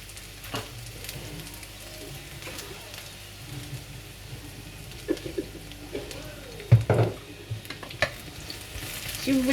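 Food frying in oil that keeps soaking up oil, giving a steady low crackling sizzle throughout with a few louder stirring clatters and pops near the end.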